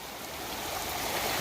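A small mountain stream flows with a steady, faint broadband rush of water, continuous and unbroken over the short stretch.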